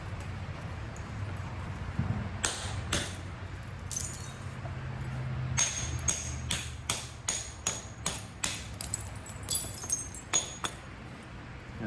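Alabama chert is flintknapped with a bopper hammerstone, giving sharp stone-on-stone strikes. A few are spaced apart at first, then come in a quick, fairly regular run of ringing clinks, close by. A low hum runs underneath and no one speaks.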